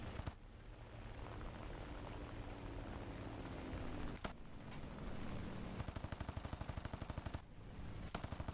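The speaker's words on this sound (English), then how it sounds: "I've not used like 50 cal gunners in so long." In the War Thunder video game, .50 cal machine guns fire in rapid bursts over a dense, constant din of engine and battle noise, the rattling volleys growing sharper toward the end.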